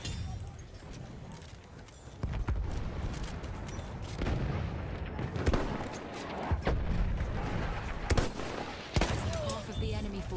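Gunfire in the video game Battlefield 1 during sniper play with a Gewehr M95 rifle, repeated sharp shots and distant battlefield bursts over a constant combat rumble, with a voice talking throughout.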